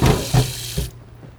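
Tap water gushes into a kitchen sink to soak onion tops, a steady splashing stream with a few louder surges that stops abruptly near the end, leaving near silence.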